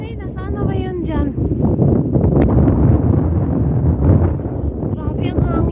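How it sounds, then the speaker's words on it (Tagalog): Strong outdoor wind buffets a handheld microphone in loud, rumbling gusts, with a person talking under the noise. "Grabe ang hangin masyado"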